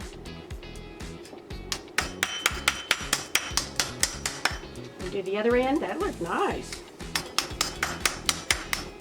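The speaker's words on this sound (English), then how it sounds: "I'm going to use my rawhide hammer to do this." A rawhide hammer forms a copper bracelet with repeated sharp, ringing taps at a steady pace, close and clear. A person talks briefly over the blows, and there is a short pause partway through.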